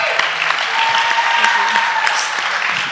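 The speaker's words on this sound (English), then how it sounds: "Give Lisa a big round of applause" An audience at a recovery-themed talk show breaks into a dense, sustained round of applause that holds steady and loud for the full three seconds, with a voice faintly present beneath it.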